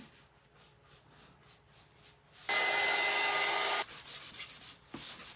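A loud, steady abrasive rasp of sanding painted wood runs for over a second, with softer scraping strokes before and after.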